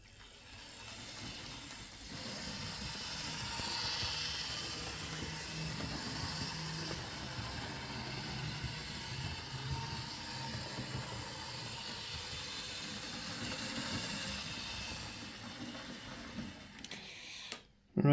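A Lima Crab model locomotive runs out of its shed with a faint, continuous mechanical whir and fine ticking from its small motor and gears. The sound holds steady and quiet throughout, ending with a brief louder knock.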